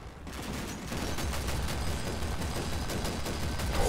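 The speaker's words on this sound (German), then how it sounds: "Wow, das ist der MK-19 Granatwerfer." An MK-19 grenade launcher firing 40 mm grenades in Combat Mission Black Sea, a sustained, rapid stream of heavy thumping shots with booming impacts, loud and continuous.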